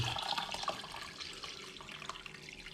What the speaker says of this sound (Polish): I zalewamy serki.